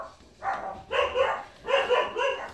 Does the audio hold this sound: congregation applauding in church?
no